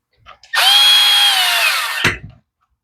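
A power driver spins a T25 screw back into a chainsaw recoil housing: one loud, close whirring burst of about a second and a half, ending with a brief clunk as the screw seats.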